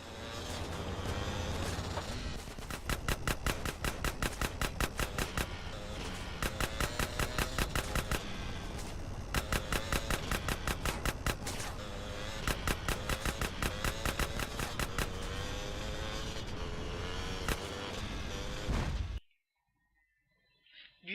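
Dense rapid bursts of automatic gunfire from a car chase in GTA San Andreas, loud and sustained with rhythmic clusters of shots over engine and game noise, stopping abruptly near the end.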